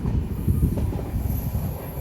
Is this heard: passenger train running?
yes